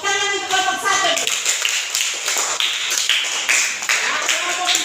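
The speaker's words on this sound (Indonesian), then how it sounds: "Tepuk tangan untuk kelompok 1." A group of children claps for a team in a church class, in a brisk rhythmic burst, with young voices chanting and calling out over the claps.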